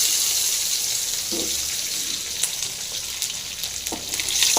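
Small shallots and garlic fry in hot oil with popped mustard seeds, making a steady close sizzling hiss broken by a few crackles and soft stirring knocks.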